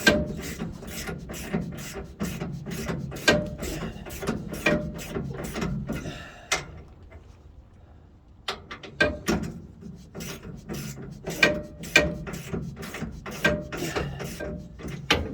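A ratchet wrench tightens the top mount of a nitrogen shock absorber, giving a long run of rapid, close, loud clicks that pauses briefly partway through and then resumes in shorter bursts.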